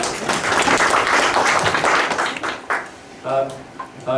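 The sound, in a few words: audience applause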